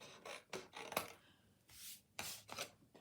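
Scissors snip and miter cardstock up to a score line for a papercraft box, giving several short, crisp cuts and rasping slides in quick, irregular succession, close and fairly quiet, with no voices.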